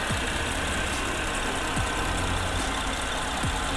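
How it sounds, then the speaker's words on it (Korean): A Porsche Panamera 3.6 AWD (970) engine idles at a steady, low rumble, with a constant broadband hum and no voices. "엔진 소리 일정하네요"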